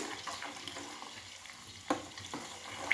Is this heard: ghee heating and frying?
yes